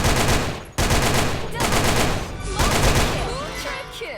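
Rapid automatic AK rifle fire in the online shooter Sudden Attack, loud and close, with several sustained bursts separated by brief pauses.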